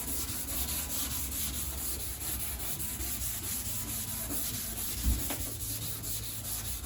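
Steady scrubbing of a surface by hand with a scrubby pad and cleaner, a continuous dense rubbing noise that carries on with little change and one brief knock near the end.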